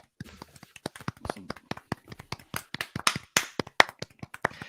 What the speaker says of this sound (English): can everyone please give a round of applause for Andy Datson?